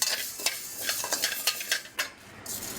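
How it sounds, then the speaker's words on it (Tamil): Fenugreek seeds dry-roast in a pan while being stirred, a quick series of dry scrapes and light metallic clinks over a faint hiss, close and moderately loud, with no talking. "அதேமாதிரி வெந்தயத்தையும் நல்லா பதமாக வறுத்துருங்க"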